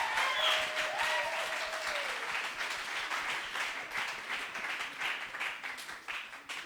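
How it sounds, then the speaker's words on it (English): Audience applause at a TEDx event in Nyarugenge, a broad crowd of clapping hands sustained throughout, with a brief whistle-like tone early on and the clapping slowly tapering toward the end. "one more round of applause for all our speakers and performers today"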